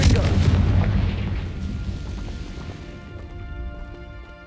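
A Confringo spell blast in the video game Hogwarts Legacy lands as a loud, booming explosion with a heavy low rumble that decays over a few seconds into a fading crackle.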